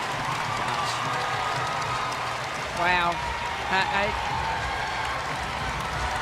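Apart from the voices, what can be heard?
basketball crowd standing and cheering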